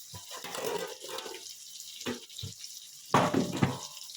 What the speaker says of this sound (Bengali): এরপর আমি অল্প জল দেব